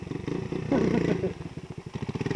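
A motorcycle engine revs and accelerates up close, loud and rising, then drops into a rapid, throbbing putter with a clattering edge.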